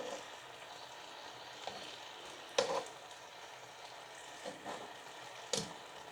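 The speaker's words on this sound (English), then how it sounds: "First of all, we'll melt the butter in a medium heat." Butter melting in a pan over medium heat gives a quiet, steady sizzle, broken by a few soft clicks and scrapes, with no talking.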